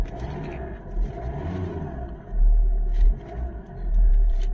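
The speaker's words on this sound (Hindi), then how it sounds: "इतना नॉइस आता है इस गाड़ी में," Inside a Hyundai i20 Asta diesel, the engine runs with a low steady rumble through the cabin, surging in deep swells as it is driven in first gear.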